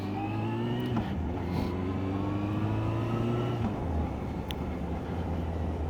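A motorcycle pulls away at a riding exam, its engine note rising through steady harmonic sweeps as it accelerates, then dropping back near the end, heard close and loud without any talk.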